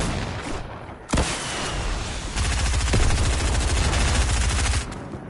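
Gunfire in the Fortnite video game, a loud sharp crack followed by dense rapid automatic bursts that keep going for several seconds and then cut off.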